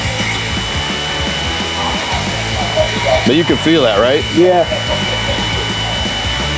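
A drill bores through stainless steel into mild steel with a steady whirring hum that briefly rises into a louder grinding surge as the bit bites, while people talk nearby.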